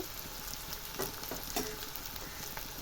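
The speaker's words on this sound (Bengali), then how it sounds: "পেঁয়াজগুলো লাল লাল করে ভেজে নেব" Onions frying in a pan for a Bengali-style katla fish dish, a steady close sizzle with a few louder stirring scrapes and no voices.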